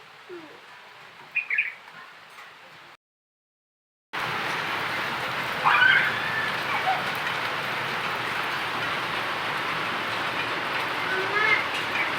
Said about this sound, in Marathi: आता बघा एवढ्या जोरात पाऊस येऊन राहिला ना खूपच जोरात असा पाऊस येऊन राहिलेला आहे